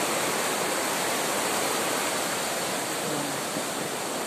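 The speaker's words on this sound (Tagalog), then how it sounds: "Ito yung baha." Rushing flood water behind a house pours in a steady, dense roar, loud and unbroken from start to finish.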